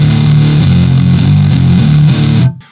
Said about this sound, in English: Mid-scooped fuzz.